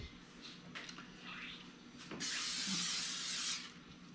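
A spray can lets out one steady hissing burst of about a second while a cobbler is being made, loud and close, after quieter kitchen handling noises.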